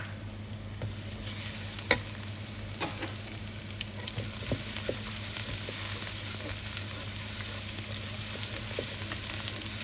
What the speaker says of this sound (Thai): จากนั้นผัดพริกกระเทียมค่ะ